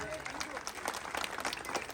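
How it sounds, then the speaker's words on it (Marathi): An audience at a Home Minister game event in Bhim Nagar, Mangalwar Peth, Pune, claps together in a steady, moderately distant ripple of applause, with crowd murmur underneath. "त्याच्यामुळे आपल्या भीमनगर साठी एकदा जोरात टाळ्या झाल्या पाहिजे"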